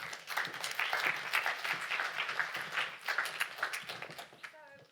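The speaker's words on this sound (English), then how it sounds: "A round of applause for the panelists." An audience at a business panel discussion gives the panelists a sustained round of applause, a steady wash of many hands clapping at moderate distance, tapering off at the end as a voice begins.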